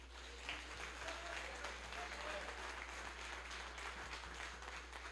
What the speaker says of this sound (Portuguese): Aplaude a Jesus.